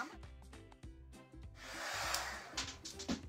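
Hair dryer blowing on wet paint on an artwork, a breathy whooshing air rush that swells midway and continues steadily for a few seconds.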